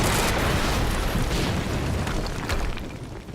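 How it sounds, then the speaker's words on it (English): A loud, booming explosion in the video game Quantum Break, a dense roar of blast and debris that fills the whole clip and slowly tapers off at the end. "HQ, we just heard an explosion near the harvesting perimeter"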